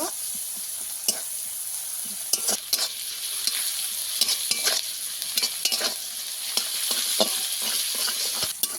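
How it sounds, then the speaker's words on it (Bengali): Chopped onion fries in a pan with cumin seeds, a loud, close, continuous sizzle punctuated by frequent sharp scrapes and taps of a spoon stirring, no voices. "কেটে রাখা পেঁয়াজ পেঁয়াজটাকে আমি ভালোভাবে লাল করে ভেজে নেব"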